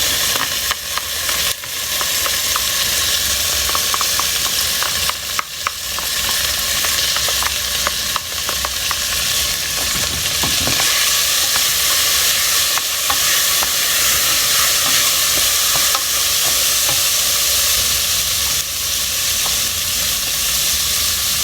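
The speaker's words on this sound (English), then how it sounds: "Now I'll add the split peas." Yellow split peas being stirred into garlic frying in a pan for Greek fava, giving a steady loud sizzle with scraping stir strokes throughout, no talking.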